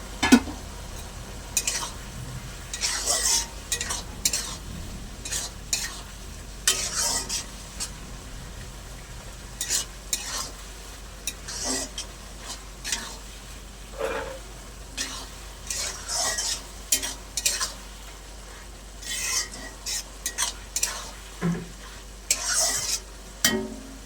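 Ground spices stirred and frying in a pan for a spinach and prawn curry, with repeated scraping strokes of a utensil against the pan over a steady low sizzle, close and alone.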